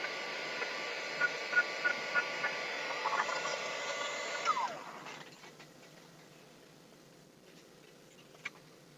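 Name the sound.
hair dryer heating a plastic bottle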